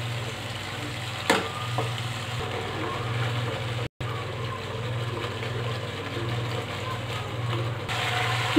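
Tomatoes frying in oil over a high flame, a continuous even sizzle over a low steady hum, with one sharp clink early on and a momentary dropout midway.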